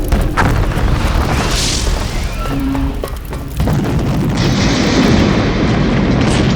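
In a video game, gas cans explode as a factory burns, giving heavy booming blasts and a dense, sustained roar of fire and debris, loud and close, with no voices.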